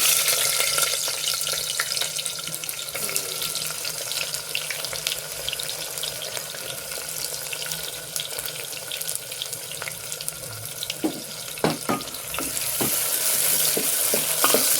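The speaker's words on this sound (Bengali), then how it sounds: "পেঁয়াজটা এখানে লাল লাল করে ভাজা হতে থাক, খুব সুন্দর করে ভেজে নেবো" Onions sizzle and crackle in hot oil, with a steady frying hiss and occasional stirring scrapes, close up and without talking.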